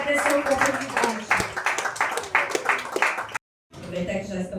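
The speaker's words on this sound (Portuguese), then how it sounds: "As palmas para o Senhor Jesus" Church congregation clapping in praise, dense rhythmic claps under singing and speaking voices that stop abruptly, then sound resumes faintly after a short gap.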